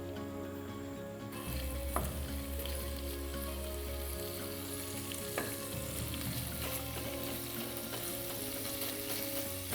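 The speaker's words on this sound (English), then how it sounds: "we want to get our chorizo up to a nice crisp" Chorizo sausages sizzle steadily in an oily pan as they crisp, a dense crackling fry with a few sharp spatters and occasional stirring scrapes, close and continuous with no talking.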